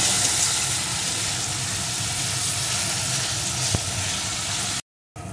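Crushed garlic frying in a pan for an egg curry, a steady broadband sizzle and hiss holding evenly throughout, with one brief scrape of stirring near the end before a short dropout.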